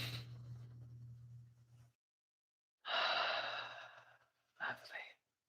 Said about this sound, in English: You want to take a breath with me?